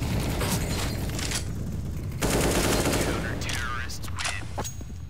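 An AK rifle firing on full auto in CS:GO, loud, close and nearly continuous, with rattling bursts and mechanical clatter, and voices heard faintly underneath.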